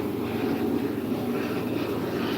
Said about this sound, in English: Almost sounded like a turboprop.